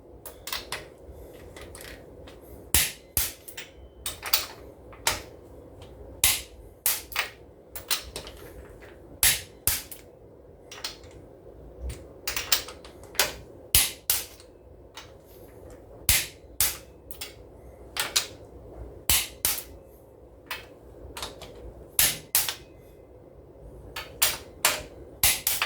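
Torque wrench clicks sharply on the cylinder head bolts of a Honda Civic during a head replacement, as repeated loud metallic snaps come in irregular clusters over about twenty-five seconds, with no talk.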